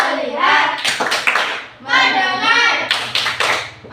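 Sixth-grade children in an elementary school classroom chant in unison and clap along in a rhythmic focus routine, with sharp hand claps punctuating the sung voices.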